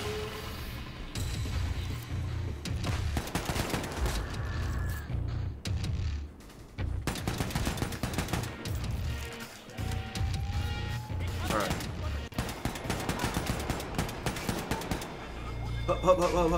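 Rapid bursts of gunfire crack and rattle through a Wolfenstein II: The New Colossus firefight, loud and close, mixed with impacts and game effects, with a player talking at times between shots.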